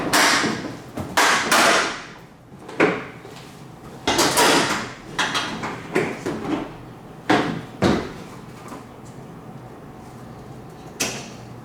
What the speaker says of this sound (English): front bumper comes off now.